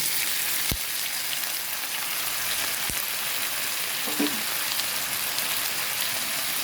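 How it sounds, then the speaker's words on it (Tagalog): Food sautés in a hot pan for a patatim dish, giving a loud, steady sizzle throughout, broken by a couple of sharp clanks of a utensil against the pan. "Kaya na muna natin siyang magisa ng maigi"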